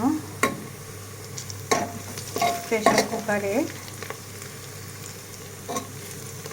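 Onion, garlic, cardamom, cinnamon, bay leaf and cloves fry in oil inside a pressure cooker before beef is added, with sharp sizzling and clattering stirs up close while a voice briefly speaks.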